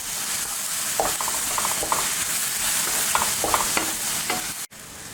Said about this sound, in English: we're going to cook this for about a minute and really stir that cumin into the veggies